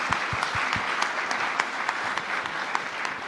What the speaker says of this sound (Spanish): un aplauso para toda la Cruz Roja, por favor